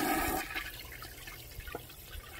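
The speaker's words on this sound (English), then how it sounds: "Let's go ahead and flush it and see if it backs up." A household toilet with a blocked, overflowing drain flushes in a loud rushing gush that tapers into steady trickling and gurgling water, close up with no voices.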